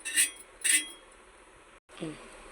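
A flat pan for an egg omelette is set onto a kitchen stove, making two bright metallic clinks in quick succession close up, followed by a short stretch of a voice talking.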